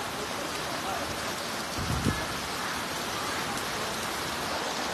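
Heavy rain pours down steadily outside a field kitchen in Nan, Thailand, a dense even hiss with a brief low thump partway through.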